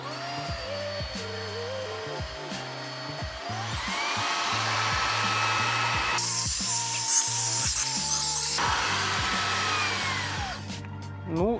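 A Jimmy HW10 washing vacuum cleaner runs without a nozzle while picking up cookie crumbs inside a car, producing a steady, close motor whine and airflow roar that shifts in pitch as debris is drawn in.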